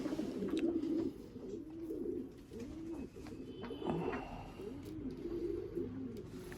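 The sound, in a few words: high-flyer pigeons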